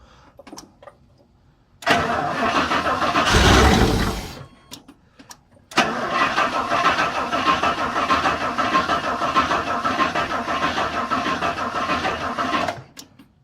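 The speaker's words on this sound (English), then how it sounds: "Squeeze a little bit of ether in it, see if I can help it start." A Rolls Royce engine with SU carburettors cranks repeatedly on the starter after ether is added, a loud, steady mechanical churning in two long bursts that never catches, with a short pause between.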